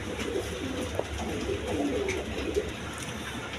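A pair of Giribaz pigeons coos softly amid steady low background noise, with the cooing faint and spread across the stretch rather than sharply defined.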